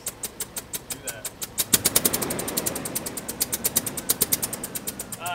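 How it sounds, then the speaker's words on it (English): A cheap used Range Rover engine with a big exhaust leak runs close up with a rapid, regular ticking puff that quickens as the revs rise, and a voice speaks over it. "It's an exhaust leak. A big one."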